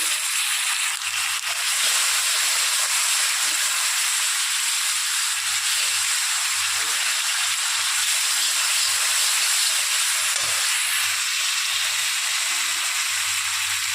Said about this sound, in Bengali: এবার দিয়ে দেবো বেটে রাখা মশলা, লঙ্কা, জিরে আর আদা আমি এর মধ্যে দিয়ে দেবো।